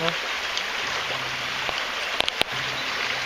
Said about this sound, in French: le long de notre petit ruisseau